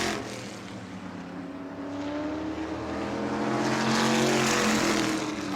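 Race cars at a New Smyrna World Series event on the final lap down the back straightaway, engines droning from a distance and swelling louder as they pass, with no voices heard.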